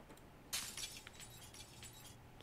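Window glass smashed out in Project Zomboid: one sharp shattering crash, followed by a brief tinkle of falling shards, heard alone at a quiet level.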